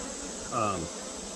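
A brief buzzing hum of honey bees at an open hive rises over a steady background drone for about half a second, then fades back.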